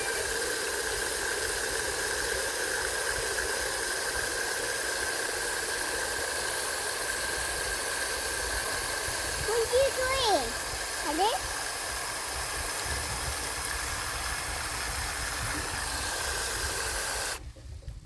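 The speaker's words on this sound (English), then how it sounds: "this I am going to use the hose for, and I'm going to fill it up about 3/4 of the way" Water from a hose filling a chicken waterer, a steady broadband hissing rush that runs continuously, with brief voices partway through before it cuts off at the end.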